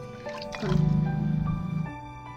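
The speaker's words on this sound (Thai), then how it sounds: "นี่ปลาเอาใส่แกงเลย" Grilled fish goes into a northern-style bamboo shoot curry, giving a close, wet squish and slosh of liquid that lasts about a second before settling.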